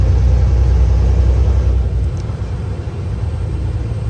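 Steady, loud low rumble of heavy road traffic in Chicago, many vehicles nearby with engines droning continuously and a slight dip partway through.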